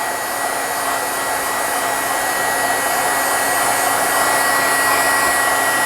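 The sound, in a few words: hair dryer drying ink on a board book cover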